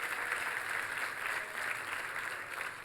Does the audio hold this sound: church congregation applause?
yes